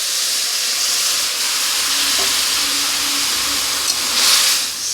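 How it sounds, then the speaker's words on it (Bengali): Tamarind water poured into a hot pan of fish curry base, a loud, steady hiss of steam and sizzling that swells briefly near the end, close up, no voices. "তেঁতুলের জলটা আমি এখানে দিয়ে দেবো"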